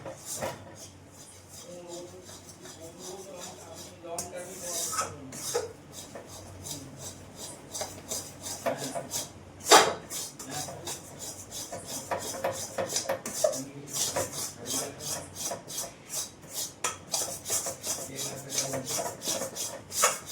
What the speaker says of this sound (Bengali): সসটা দিয়ে সমানে নাড়তে হবে যাতে না তলায় লেগে যায়।